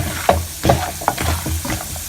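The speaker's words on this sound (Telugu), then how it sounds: "పల్లీలు ఫ్రై అయినాయి. సో ఇప్పుడు పుట్నాలు వేసుకున్నాం." Peanuts and roasted gram stirred and frying in a pan with ghee while making poha upma, giving a few distinct scraping stirs over a steady low sizzle, close and fairly loud, with no talk.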